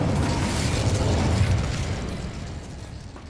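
A fiery Incendio spell blast in Hogwarts Legacy: a loud, broad, rumbling burst of flame that swells and then slowly fades, with no talking over it.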